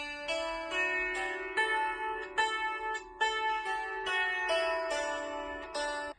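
A five-string kantele tuned to a major key plays the Finnish children's melody Satu meni saunaan, starting from the longest string, with clear plucked notes ringing in steady succession, close and fairly soft, no talking.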